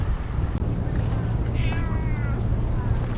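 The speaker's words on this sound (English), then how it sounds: "Started meowing when I got close." Cat meowing outdoors near a rock on a rainy city street, a few short rising mews heard close over steady wind and background rumble.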